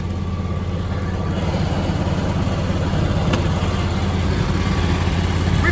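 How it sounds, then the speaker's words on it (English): A John Deere X734 all-wheel-steer garden tractor idles with its 27 horsepower liquid-cooled Kawasaki FD750D engine, a steady low rumbling hum held close and even for several seconds with no talking. "Let's take a look under the hood while we've got the engine going here."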